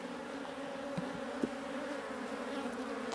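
Honey bees buzz at an opened hive during an inspection, a dense, steady, close drone with a few brief louder passes over it.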